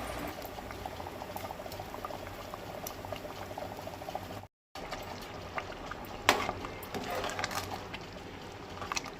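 Goan-style mutton masala curry with coriander leaves bubbles at a boil in a pot, a steady close simmering gurgle throughout with a brief cut midway and louder bursts of bubbling near the end, no talk.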